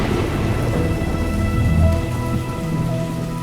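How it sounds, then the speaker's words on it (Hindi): Heavy rain pours down outside at night in a steady dense hiss, with low rumbling thunder rolling underneath, constant and fairly loud. "बाहर बारिश हो रही है"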